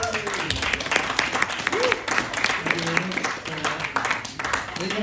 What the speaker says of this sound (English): That's the only applause I will be getting.